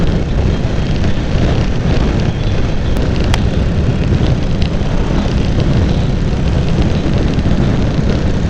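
Strong wind blasting across the microphone outdoors on a bright day, a loud, constant roaring rumble that stays unbroken throughout.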